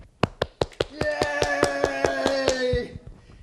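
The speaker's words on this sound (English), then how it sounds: "All right, the crowd roared." Audience clapping for youngsters: a few sharp separate claps, then rhythmic clapping under a sustained cheering voice.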